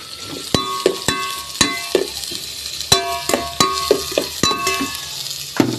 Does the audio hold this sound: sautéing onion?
yes